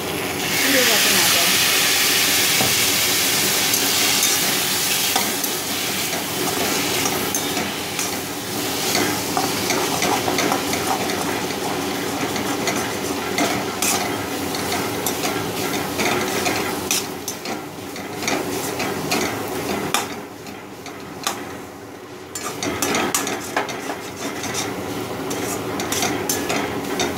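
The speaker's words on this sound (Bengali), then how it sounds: "আমরা জাস্ট একটু এক ছিটে জল দেবো, মশলাটা পুড়ে যাবে না।" Spiced masala fries in a pan for a pumpkin chakka after a splash of water, a loud hissing sizzle and steam burst that gradually settles while a spoon stirs and scrapes throughout.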